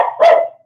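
A single loud, close dog bark, short and sharp, tailing off quickly with nothing else around it.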